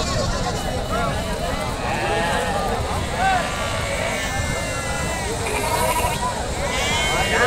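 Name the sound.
goats bleating at a market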